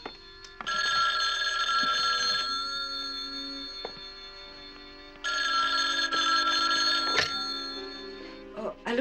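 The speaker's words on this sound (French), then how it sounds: "c'est probablement eux qui téléphonent" A telephone bell rings in two long, loud electronic bursts separated by a pause, with brief thumps and faint background noise in a television crime drama scene.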